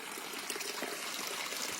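Spring water trickling steadily through a creek inlet below downtown Bowling Green, a continuous close, soft watery babble with no other sounds.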